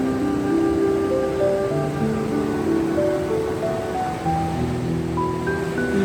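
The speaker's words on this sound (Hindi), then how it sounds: "ये जो धारा आ रही है सीधी कैलाश से आ रही है" The Kailash Ganga stream flows down from Mount Kailash in a steady, loud rush of water that never lets up, with faint melodic tones drifting above it.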